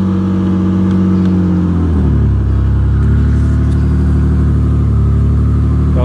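Infiniti G35 with a budget mid-mount turbo setup and silencer fitted revs up loud and close, a rising engine tone holding a steady, throaty drone with a buzzy rasp, no talking.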